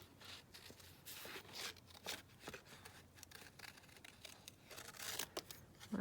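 Scissors snip out a paper butterfly in quiet, close, irregular cuts, with soft paper rustles between the snips and no talk.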